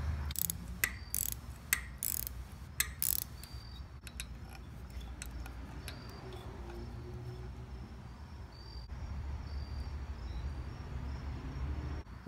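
A Snap-on screw extractor backs out a snapped bolt on a Toyota T100 with a 2JZ engine swap, giving a few sharp ratcheting clicks up close before a quieter mechanical rumble carries on.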